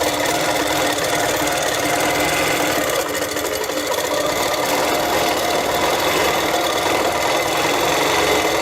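A sewing machine mounted on a quilting loft frame stitches a wavy line at about six to eight stitches per inch, giving a steady, close mechanical whirring hum with rapid needle chatter, running alone without pause.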